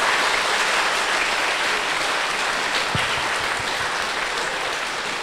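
Steady, dense applause from a lecture audience honoring an imam and a pastor at a university hall in Yogyakarta, continuous and even from start to finish with no voices.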